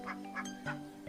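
Ducks raised on maggot feed quack in a pen, giving several short nasal calls in quick succession, close by and fairly loud with no talk.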